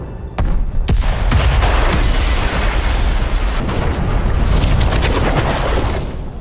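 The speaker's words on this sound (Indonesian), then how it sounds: "bom pun meledak" A bomb goes off in a film scene, a loud, sustained roaring blast with a few sharp cracks at the start, rumbling continuously before tapering off.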